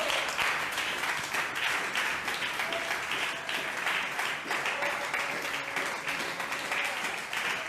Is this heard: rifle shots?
no